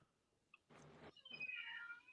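A cat meows faintly from far off, a couple of soft, drawn-out calls rising over a quiet room with no one talking.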